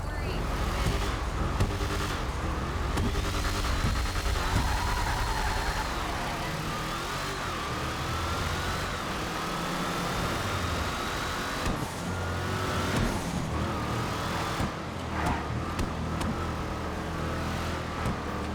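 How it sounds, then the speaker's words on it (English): A sports car engine in GTA 5 Online revs repeatedly, climbing and falling in pitch over a constant loud rumble, with occasional sharper bursts. "Let's give it some revs."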